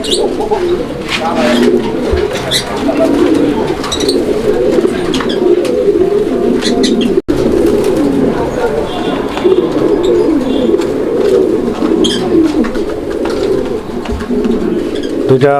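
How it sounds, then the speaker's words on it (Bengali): A pair of racer pigeons coo continuously up close in a steady, throaty rolling rhythm, with someone speaking briefly over the calls. "কবুতর দেখছেন ডাকটা কিন্তু আমি দেখাই দিছি আপনাদেরকে"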